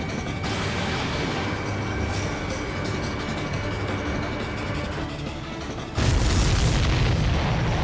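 Explosions and heavy mechanical rumble from the aerial combat game Ace Combat 7, a dense continuous roar with a louder blast surge near the end, no talking.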